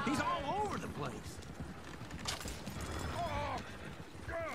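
Horses gallop in the Western video game Red Dead, rapid hoofbeats running steadily under a loud, busy mix of game sounds and chatter, with a horse whinny rising near the start and near the end.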